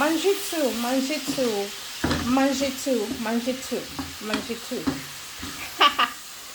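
Mangetout and other vegetables being stir-fried in a pan, a continuous close sizzle with stirring scrapes, while a person talks over it throughout.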